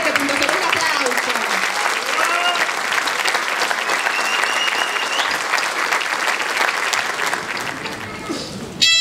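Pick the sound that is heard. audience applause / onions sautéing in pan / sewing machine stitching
audience applause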